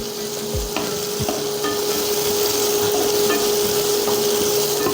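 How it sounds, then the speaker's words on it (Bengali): Chopped onions frying in hot oil in a wok, a steady loud sizzle broken by occasional knocks and scrapes of a spatula stirring them. "কড়াইটা গরম হয়ে গেলে তার মধ্যে আমরা কুচানো পেঁয়াজ দিয়ে দেবো"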